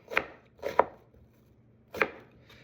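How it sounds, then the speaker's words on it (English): Three sharp knife strokes chopping onions on a cutting board, two close together and a third after a pause, crisp and close with no talking. "So now you have your onions that are cut the long way"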